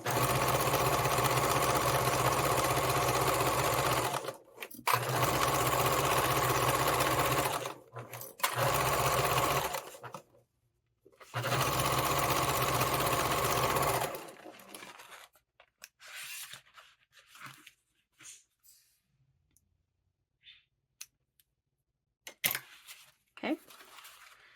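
A sewing machine stitches fabric for a tool storage roll, running close and loud in several long steady bursts with brief pauses, then stops, leaving a few faint clicks and handling noises.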